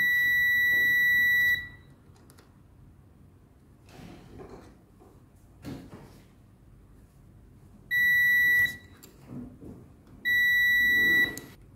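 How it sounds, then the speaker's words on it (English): A multimeter's high continuity tone beeps steadily in three sustained bursts while testing a broken transistor's collector and emitter, separated by quiet gaps with faint handling clicks and rustle between them. "Collector and emitter is beeping both ways, beeping."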